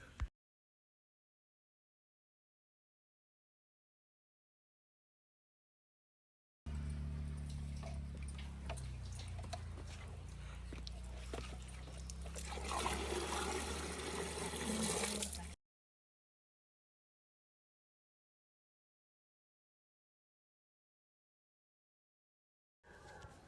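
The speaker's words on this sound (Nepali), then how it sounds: "मैले अब यो कुवाबाट पानी निकाल्दैछु।" Water is drawn from a well at a village home, heard as roughly nine seconds of splashing, rushing water with faint ticking and creaking, framed by long stretches of silence.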